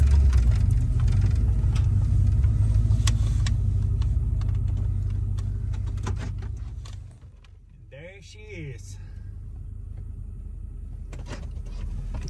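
A delivery truck idles nearby with a steady low engine rumble that dips briefly before resuming, while brief squeaks and faint outdoor sounds pass over it.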